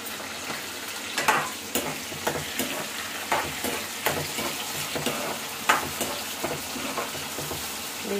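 Chopped tomatoes fry in a pan for an ivy gourd masala curry, a steady close sizzle broken by repeated scraping stirs of a spoon against the pan.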